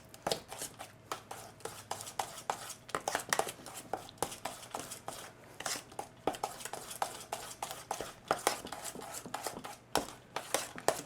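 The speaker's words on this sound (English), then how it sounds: "and we mix again." Brownie batter with walnuts being mixed after the last egg goes in, a steady run of soft scraping and tapping strokes of a utensil against a bowl, close but quiet, with no voices.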